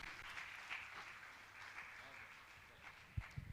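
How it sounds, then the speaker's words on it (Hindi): Faint, distant applause from a crowd gathered at a Jain monk's religious discourse session, a soft wash of clapping that continues steadily at low volume, with a couple of louder knocks near the end. "जोरदार ताली बजती रहनी चाहिए।"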